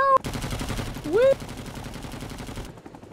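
In the Vietnam War shooter Rising Storm 2: Vietnam, a helicopter's droning rotor is heard alongside continuous loud gunfire. A brief rising vocal whoop cuts through early on.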